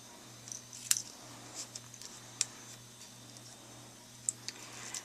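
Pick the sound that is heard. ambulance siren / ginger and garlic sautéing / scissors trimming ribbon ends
scissors trimming ribbon ends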